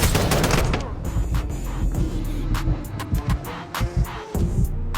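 Video game gunfire during a benchmark run: dense bursts of rapid shots and booming impacts, loud and close, with brief gaps between volleys.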